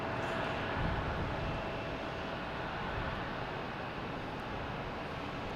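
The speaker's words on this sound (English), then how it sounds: "We have a JetBlue coming in from Orlando, an A320, just about at Castle Island." JetBlue Airbus A320 from Orlando approaching Boston Logan Airport near Castle Island, a faint, steady distant jet rumble with a thin engine whine, unbroken and without talk.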